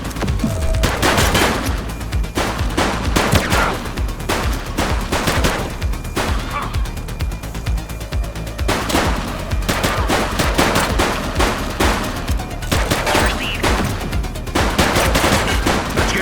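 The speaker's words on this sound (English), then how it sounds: "police are engaged in a fierce shootout following yet another bank robbery" Intense gunfire from a police shootout after a bank robbery in The Precinct video game: dense, loud bursts of rapid shots and volleys that continue without pause throughout.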